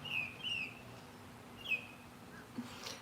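Several bird chirps, faint and somewhat distant, come in a few short bursts over a low steady background hum, with no talking.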